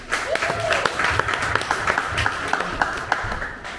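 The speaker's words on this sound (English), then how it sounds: "Applause for Konstantin." Audience applause with steady clapping and a few whoops fills a live tech meetup venue in Melbourne, continuous and moderately loud for several seconds.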